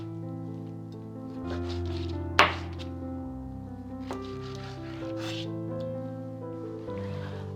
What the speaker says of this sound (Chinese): 把龙虾切成4口大小，我通常是一个龙虾尾切成5段